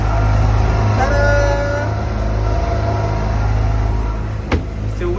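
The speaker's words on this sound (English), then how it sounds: "So we are testing the new engines." Two new Tohatsu 20hp outboard engines run on a catamaran with a loud, steady drone, close and continuous, with a brief knock near the end.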